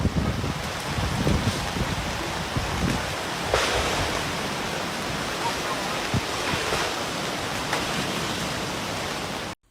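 Strong flood water current rushing in a steady, loud, broadband roar like heavy surf, continuous for the whole stretch with a few brief louder surges and no talking.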